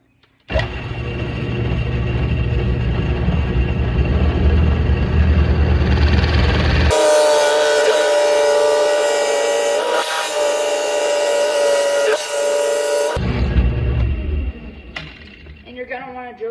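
A drill press motor whirs as a 1.5-inch Forstner bit grinds steadily into a 2x4, the pitch shifting mid-way before winding down, recorded close.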